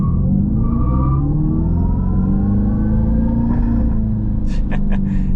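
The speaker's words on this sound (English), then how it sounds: "let's do a little launch" Electric Dodge Charger launching in track mode, a loud synthetic engine roar building and rising in pitch close by, with a few faint clicks near the end.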